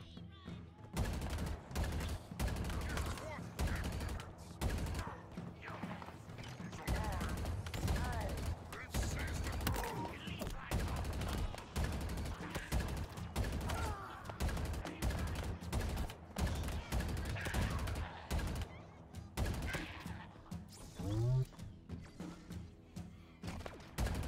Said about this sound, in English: And everything's just exploding.